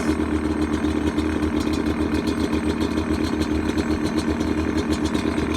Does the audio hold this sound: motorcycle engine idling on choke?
yes